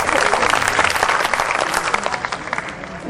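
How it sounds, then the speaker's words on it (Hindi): Sustained applause from a kavi sammelan audience for poet Vineet Chauhan, a dense, loud wash of many hands clapping without a break, tapering slightly near the end. "मैं चाहता हूं भाई विनीत चौहान के लिए भी आप तालियां बजाएं।"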